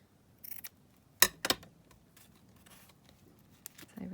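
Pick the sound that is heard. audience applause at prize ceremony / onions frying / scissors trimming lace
scissors trimming lace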